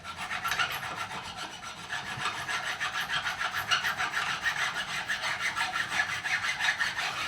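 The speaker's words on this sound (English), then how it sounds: "Once I start getting white come off the file, I know I'm cutting into the binding." Steady rhythmic rasping of a file cutting a bevel into the binding along the neck of a Gibson Les Paul Custom, close and continuous with even back-and-forth strokes.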